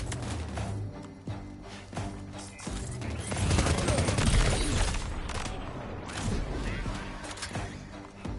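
Gunfire in an action game rings out as repeated shots and bursts that build into a denser, louder volley midway, mixed with crashes and mechanical clatter, and voices speak underneath.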